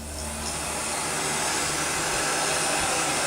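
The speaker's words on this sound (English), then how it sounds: "You're going to take your blow dryer or your heat gun" A heat gun or blow dryer aimed at a leather duck boot gives off a steady, close, even whooshing hiss that holds level the whole time with no other sound.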